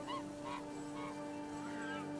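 Honks from a goose card's sound effect in the video game MTG Arena, a few soft, wavering calls over a steady electronic hum of game music.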